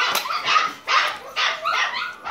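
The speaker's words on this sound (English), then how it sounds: "They don't stop barking." Dogs bark loudly and close up in several quick bursts, a mix of sharp barks and yips with short pauses between them.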